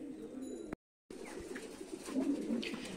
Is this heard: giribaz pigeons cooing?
yes